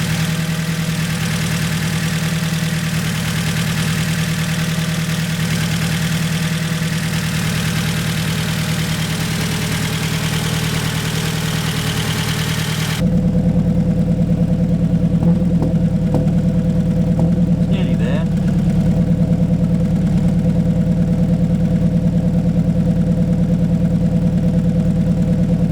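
Ford Focus RS engine idling with a misfire, a steady low mechanical hum with uneven stumbles and knocks in the rhythm, continuous and close.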